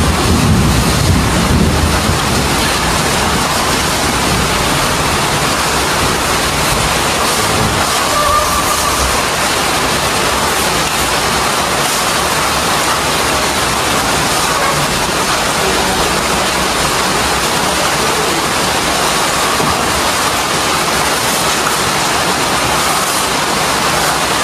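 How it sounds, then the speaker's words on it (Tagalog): Heavy rain pours down over a house under construction, a dense, steady roar of broadband noise that holds loud and unbroken throughout. "Grabe ang ulan."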